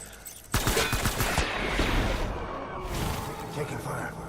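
Rapid bursts of gunfire in the video game Death Stranding: Director's Cut, a sharp volley of closely spaced shots followed by sustained noisy combat with a voice speaking over it.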